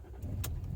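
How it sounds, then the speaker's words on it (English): A Land Rover Discovery 3 engine starts up: a steady low rumble runs throughout, with a brief sharp burst midway, heard close and alone. "Start the engine."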